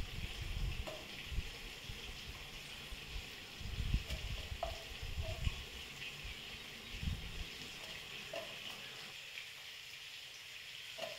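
Pieces of chicken fry in oil until golden brown, a soft steady sizzle with occasional low thumps and bubbling, fairly quiet and close, ending in a calmer hiss.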